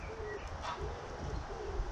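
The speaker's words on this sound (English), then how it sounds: "the wood pigeon there," A wood pigeon coos softly in a garden near brassica beds, its low calls faint against steady outdoor background noise.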